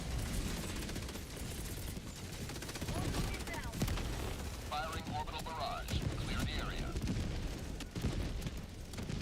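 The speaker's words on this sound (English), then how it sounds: "Firing orbital barrage" Rapid, dense gunfire and booming impacts of an orbital barrage in an online multiplayer game, crackling continuously with scattered blasts, while mechanical beeps chirp briefly in the middle.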